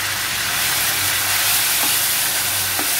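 Grated onion sautés in a pan for paneer do pyaza, a steady close sizzle and hiss with faint stirring scrapes, no voices.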